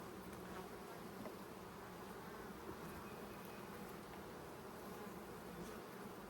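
Honeybees buzzing steadily around open brood frames during a hive inspection, a dense continuous hum filling the whole stretch with no voices.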